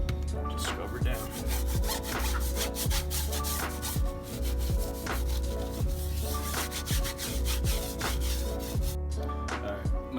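A brush scrubbing a car tire during a wash, steady rhythmic rasping strokes repeating back and forth close to the microphone, with no talking.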